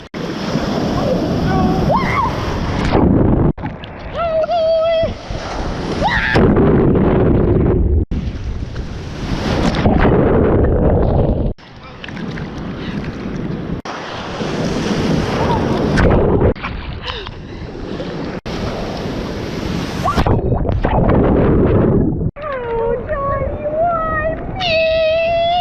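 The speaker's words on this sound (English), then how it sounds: "The waves are huge, and I keep getting smacked into the ground." Large ocean waves crash at Daytona Beach at sunset, a loud continuous roar of surf mixed with heavy wind buffeting on the microphone, with bursts of voices between surges.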